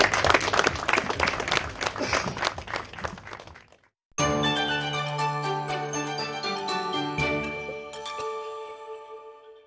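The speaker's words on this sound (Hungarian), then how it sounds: "egy nagy tapsot a mi terékpilotáinknak hadd kérjük" Audience applause for military pilots at a Hungarian city event, dense clapping that fades out midway, then cuts to bright chiming music.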